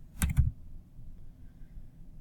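Two quick, close plastic clicks from keys pressed on a TI-Nspire calculator, followed by near silence with only faint background noise.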